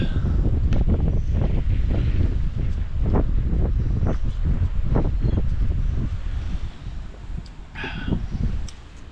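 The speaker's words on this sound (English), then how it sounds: "Yes, it's quite windy" Strong wind buffets the microphone in loud, continuous gusts with low rumbling bursts, steady throughout with no talking.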